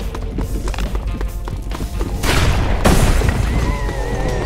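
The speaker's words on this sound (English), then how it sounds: "This shotgun sounds like the one from Dead Rising." A shotgun fires in the zombie game All Zombies Must Die!, with a few heavy, booming blasts over a busy game soundscape, the loudest arriving near the middle and a thick burst following, with no speech.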